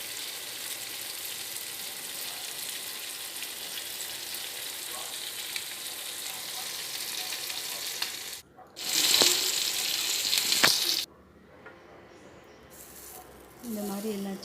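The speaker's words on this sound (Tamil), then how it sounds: "இந்த மாதிரி எல்லா சிக்கனையும் பொரிச்சு எடுத்துட்டேன்" Chicken pieces fry in oil for Afghani chicken, a continuous soft sizzle that breaks briefly, swells into a louder, harsher spit for a few seconds with a sharp clink, then settles back to a gentle crackle.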